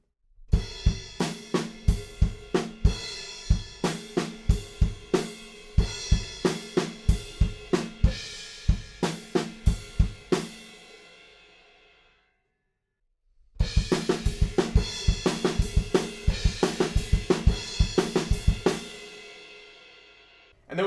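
Rock drum kit playing a groove: steady driving beats with crashing cymbal hits, loud and close, breaking into a brief silence before the pattern resumes with a sustained wash of cymbals.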